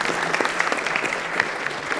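Applause from a speedrun marathon audience at Awesome Games Done Quick 2015, a steady wash of many hands clapping at moderate level for a couple of seconds with no voices.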